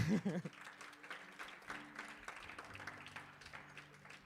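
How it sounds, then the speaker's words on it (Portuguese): Church congregation applauding during a sermon, a moderate, steady patter of many hands that holds after a brief voice at the start, with an organ or keyboard tone sustained underneath. "Dê uma salva de palmas a Jesus pelas mulheres."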